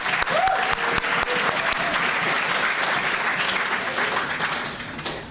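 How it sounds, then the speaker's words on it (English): An audience at a closing ceremony breaks into sustained applause, dense clapping filling the room from start to finish and fading slightly at the end. "our applause and thanks to all of you"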